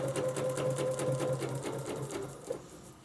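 Domestic sewing machine stitching fabric with a ruler-work setup, running in a steady rapid mechanical rhythm close by, then slowing and stopping near the end; no talking.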